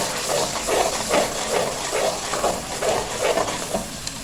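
Masala with two tablespoons of yogurt being stirred in a pan for a white kidney bean curry, giving a steady sizzling hiss with a regular rhythm of soft scraping strokes about every half second, close and continuous.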